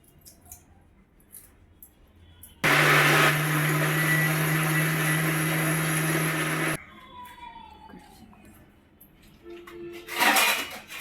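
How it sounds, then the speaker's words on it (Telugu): An electric mixer grinder blending chopped tomato, green chilli and ginger in a jar, a loud steady whirring roar lasting about four seconds that starts and stops abruptly, with clinks of kitchen utensils before and after. "చిన్న చిన్న ముక్కలుగా కట్ చేసి మిక్సీ అయితే వేసేసుకుంటున్నాను"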